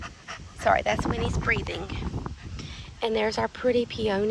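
A dog pants heavily close by during a spring garden walk, its rapid breathing heard under and between a woman's speech.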